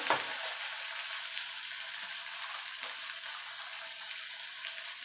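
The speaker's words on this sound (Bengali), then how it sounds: "এবার এটাকে আর একটুখানি ভাজা ভাজা করে নেব" A pan of prawns cooking in taro leaf paste sizzles in an even, continuous hiss, close and moderately loud, with faint stirring and no voices.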